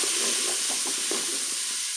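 Tagliatelle and chorizo being stirred in a Cookeo multicooker, a steady sizzle and frying hiss with soft scraping knocks of the spoon repeating irregularly, close and fairly loud, no voices.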